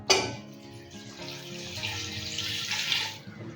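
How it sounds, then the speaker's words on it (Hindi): Two glasses of water are poured into minced meat for a keema karela dish, a continuous splashing gush that runs for a few seconds, close and fairly loud, with no talking. "अब कीमे के अंदर पानी जाएगा 2 गिलास"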